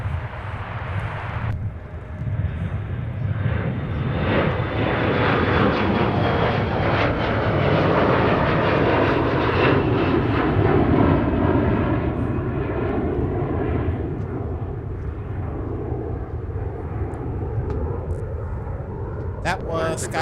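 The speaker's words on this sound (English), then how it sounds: "That was SkyWest 3805 off to Indianapolis with that Embraer there." A SkyWest Embraer regional jet departs Minneapolis–St. Paul airport with a loud, sustained broadband engine roar that builds and holds for about twenty seconds, a faint high whine running through it.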